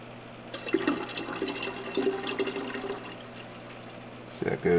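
Water gushes from an aquarium pump line through a flow valve, a splashing, bubbling stream that starts abruptly and runs steadily for several seconds before a brief clatter near the end.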